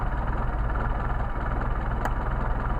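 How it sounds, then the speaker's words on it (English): A Mercedes 190SL engine with Solex carburetors idles at around 700 to 800 rpm, a steady low rumble with an even pulse, close and continuous, alone with no talk. "Now I've got an idle of about 700-800."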